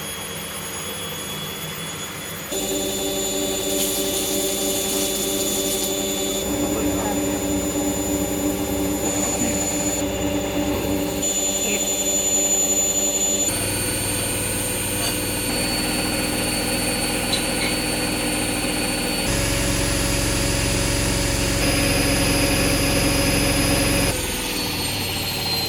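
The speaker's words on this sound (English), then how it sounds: "So now the machine has finished the spin cycle." A Hoover Wizard remote washer dryer runs a spin cycle: a steady, loud, whining drum hum drones on for about twenty-five seconds, with the pitch shifting in stages as the speed changes.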